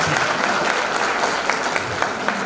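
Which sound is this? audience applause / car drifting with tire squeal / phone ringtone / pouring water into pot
audience applause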